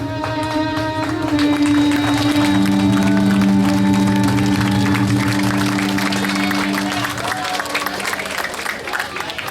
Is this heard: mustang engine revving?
no